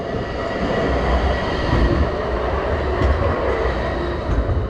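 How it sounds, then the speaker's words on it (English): A tram in Nottingham rumbles steadily nearby with low, continuous rolling noise and faint rattling, growing slightly as it approaches, no talking. "Here's the tram coming."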